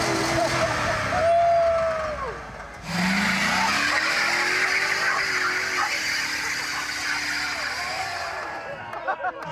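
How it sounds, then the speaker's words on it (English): A revving car engine roars as tires squeal and skid in a long, loud burnout at the 2024 Freedom 500 event, with pitch rising and falling before tapering off. "first thing first, test the burnout"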